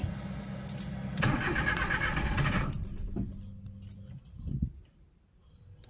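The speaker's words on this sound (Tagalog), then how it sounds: "try na natin i-start ulit. Kung mag-i-start na siya ulit ng maayos." Suzuki DA64W non-turbo minivan with a 3-speed automatic being cranked and failing to start: a loud close starter churn for a few seconds, then it dies away into quiet with a few faint clicks.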